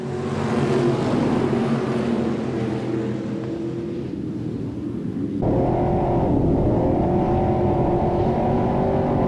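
IMCA stock cars racing on an off-road dirt speedway, the engines' steady loud roar rising sharply in intensity midway as the pack passes.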